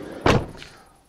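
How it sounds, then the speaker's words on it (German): A camper van door is pulled shut with a single close, solid thunk that fades quickly into quiet, with no voices. "jetzt ist die Tür nicht gescheit zu"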